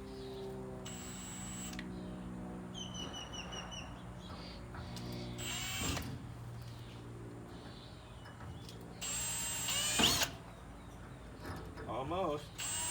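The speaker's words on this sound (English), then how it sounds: "Then you should be able to drill a hole." Short bursts of a power drill whir in and out amid clanks and handling noises as a hole is drilled in a wheelbarrow, with people talking intermittently.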